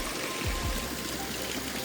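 A natural spring trickles out of the ground along a hillside trail in Pyuthan, Nepal, making a steady, close-up rush of flowing water with no talk over it.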